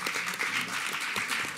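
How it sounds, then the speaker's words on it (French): Audience applause at a round-table debate on the invasion of Ukraine, a continuous wash of many hands clapping at even loudness throughout. "On peut vous applaudir"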